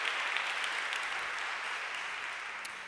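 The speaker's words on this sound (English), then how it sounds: "A round of applause for Carla Zampatti and her foundation." An audience at an awards ceremony and lecture claps in a steady, dense wash of applause that fades slightly toward the end.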